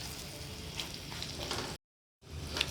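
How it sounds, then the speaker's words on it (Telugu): Diced potatoes frying in a pan for dahi aloo give a steady close sizzle that cuts out briefly to silence and then resumes with a few small crackles. "రైట్ ఇది వేయించేసుకుందాం ఒక్క నిమిషం అండి వేగిన తర్వాత నెక్స్ట్ స్టెప్కి వెళ్దామండి"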